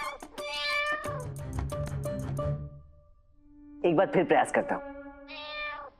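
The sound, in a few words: cat meowing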